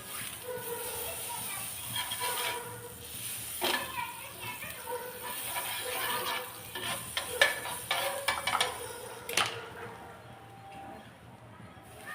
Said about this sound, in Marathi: तर आता मी बटर टाकून घेतलेलं आहे.